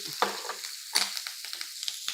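A tempering of cumin, asafoetida, cashews and green chillies crackles in hot oil, with sharp sizzling bursts and stirring scrapes coming in quick, irregular pulses close by.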